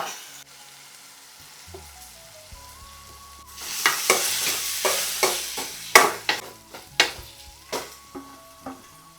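Potatoes drop into hot tempering oil (tadka) and sizzle loudly, with clattering stirring and scraping strokes in an irregular rhythm, close up and without speech.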